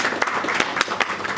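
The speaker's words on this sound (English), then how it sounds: "we round of applause for them." Applause from a conference audience at a young African media summit, a dense steady patter of many hands clapping with no pauses.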